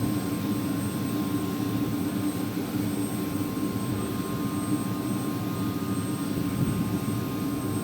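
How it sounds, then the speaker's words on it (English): A steady, loud turbine whine and broad engine roar from a UH-60A Black Hawk helicopter spooling up at an airport fill the air continuously, with a thin high-pitched tone sustained above the rumble. "They're going to spool up this aircraft right away and take off"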